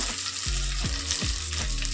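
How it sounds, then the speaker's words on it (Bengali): Loud, close sizzling of coconut pieces frying in hot oil, with rhythmic scraping strokes as they are stirred about the pan. "নারকেলগুলোকে একটু ভেজে নেব।"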